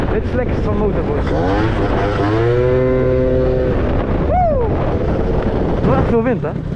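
Strong wind buffets the microphone while riding a Piaggio Zip 172cc scooter, a constant low roar with a faint engine drone and brief rising whine underneath.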